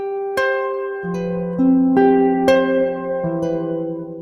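A short harp phrase with one note altered, built from a string of plucked notes that overlap and sustain, clear and close, with no voices.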